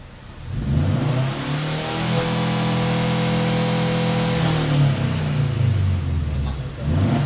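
A racing car exhaust revs up loudly, holds a high, smooth drone for several seconds, then drops back down before revving again.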